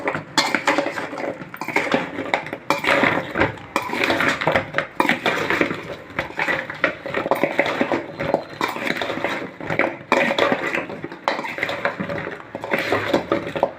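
Jaggery syrup and wheat flour being mixed in a wide basin, with a continuous clatter and scrape of a utensil against metal and wet sticky squelching, steady and close throughout.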